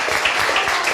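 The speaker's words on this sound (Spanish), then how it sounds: "Dale un fuerte aplauso al Señor." A church congregation claps loudly in a dense, continuous burst of applause that fills the whole moment with a roomy wash and no distinct single claps.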